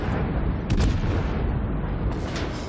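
Izumo battleship main guns fire in World of Warships, a heavy booming blast with a sharp crack near the start and another surge near the end over rumbling background, loud and close.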